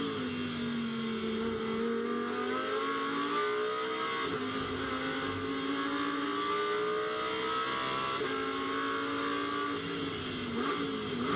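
GT2 race cars at speed around the Misano circuit, engines wailing and shifting continuously through the corners, loud and sustained throughout with no talk over them.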